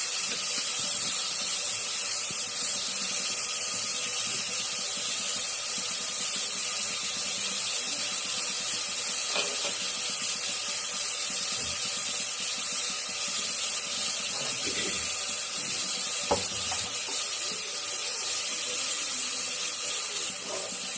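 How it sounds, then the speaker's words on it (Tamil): Tomato and onion sauté in a pan with a steady, loud hiss of frying that runs throughout, broken only by a few faint clicks and clinks. "தக்காளி வெங்காயம் நல்லா வதங்குதுங்களா நல்லா வதங்கட்டும்"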